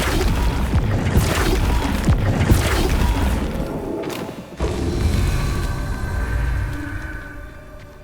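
Repeated Confringo and Flipendo spell blasts in Hogwarts Legacy, a series of heavy booms and thuds thumping in quick succession over loud game ambience, with a brief dip before the impacts resume.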